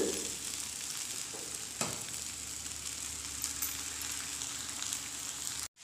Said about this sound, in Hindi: हाई फ्लेम के ऊपर इसे चलाते हुए भून लेंगे